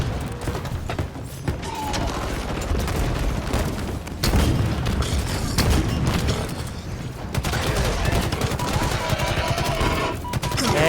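Sci-fi video game combat fills the stretch with rocket launcher blasts, booming explosions and rapid gunfire, loud and continuous with layered thumps and mechanical clatter.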